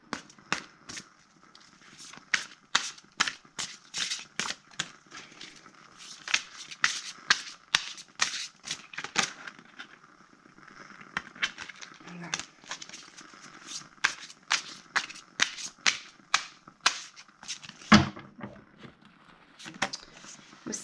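Oracle cards being shuffled by hand in a tarot reading, a long run of quick papery riffling bursts in uneven rhythm, fairly close and moderately quiet, with a brief pause and a louder snap near the end.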